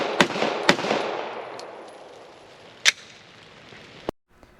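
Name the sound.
HK Mark 23 pistol firing at the range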